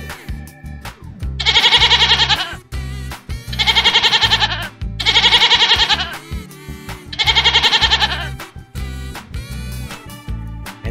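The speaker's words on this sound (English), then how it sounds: "beautiful goat. And everyone loves his voice" A goat bleats four times in long, wavering, nasal calls spaced about a second apart, loud and close, with low rumbling noise between calls.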